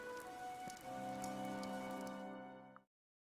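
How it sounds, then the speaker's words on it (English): Rain patters steadily in the video game Fire Emblem Three Houses under sustained musical tones, a soft, even wash that stops abruptly near the end. "The rain is really coming down now."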